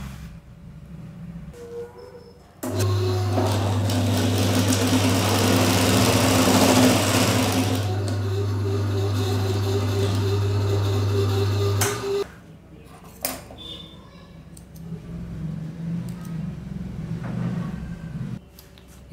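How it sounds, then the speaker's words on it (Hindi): An electric sewing machine stitches an old bag into a ladies' hanging purse, its motor whirring in one loud, steady run of about nine seconds, with quieter fabric handling and clicks before and after. "मैं सिलाई कर लेता हूँ।"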